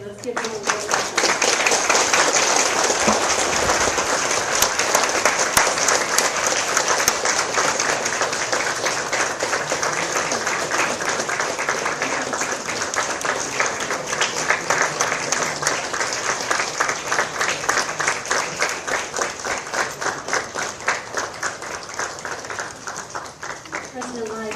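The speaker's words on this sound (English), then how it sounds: "let's give them a round of applause" An audience at the East-West Center in Hawaii gives sustained applause to welcome Taiwan's President Lai, steady dense clapping lasting over twenty seconds and tapering slightly toward the end.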